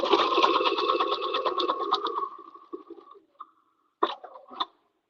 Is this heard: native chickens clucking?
no